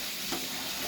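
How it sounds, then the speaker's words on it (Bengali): Food frying in a pan for a Friday picnic cookout, giving off a steady, close broadband hiss that holds evenly for the whole second with no voices. "ভাজা হচ্ছে।"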